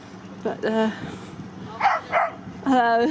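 Dogs bark in short yappy bursts near a narrowboat moored on the River Thames by Hampton Court, several separate barks with a brief spoken greeting between them.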